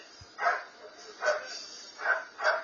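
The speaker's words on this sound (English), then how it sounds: "Dog barking." A dog barks four times at a steady pace during an FBI raid on a house, somewhat distant and muffled, with quiet background between the barks.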